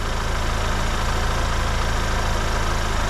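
Ford Bronco Sport engine idles steadily with an even, low rumbling drone, close and continuous throughout with no talk.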